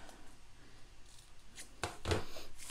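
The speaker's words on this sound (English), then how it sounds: "I'm just gonna take my scissors and fringe, fringe, fringe all the way down." Scissors snip fringe into a strip of cardstock paper, a few quiet crisp cuts clustered near the end over a faint room hush.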